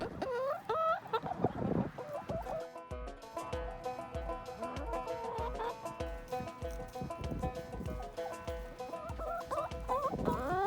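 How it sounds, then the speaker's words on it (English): Chickens cluck and squawk inside a very large backyard coop on a homestead, busy overlapping calls filling the whole stretch, close and fairly loud with no talking. "So this is your chicken coop, but it's more like a chicken hotel or a chicken resort."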